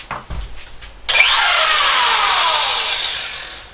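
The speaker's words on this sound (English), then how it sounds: "It's called a Roman pork puller. Seconds and it's pulled." A Roman pork puller, a power tool, shreds cooked pork for competition pulled pork, starting abruptly after a brief clatter and running as a loud, steady whirring grind for a few seconds.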